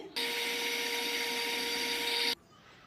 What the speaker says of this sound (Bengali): এখন এই সবগুলো উপকরণ আমি একটু ব্লেন্ড করে নিচ্ছি